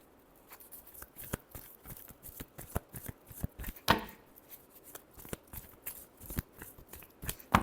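Tarot cards being shuffled by hand, a close series of crisp irregular riffles and slaps with one louder burst partway through, no voices over it.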